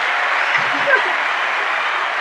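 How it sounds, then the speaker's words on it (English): Crowd applause sound effect, a steady wash of clapping and cheering held at even loudness throughout, with no break or fade. "The crowd goes wild."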